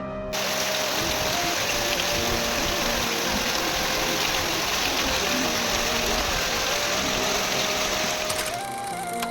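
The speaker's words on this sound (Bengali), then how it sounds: "বাইরে বৃষ্টি হচ্ছে, আপনারা একটু দেখুন কিরকম হচ্ছে বৃষ্টির আওয়াজ।" Heavy rain falls outside in a steady, dense hiss that fills the entire stretch without letup, with a faint mechanical whine running underneath and no talking.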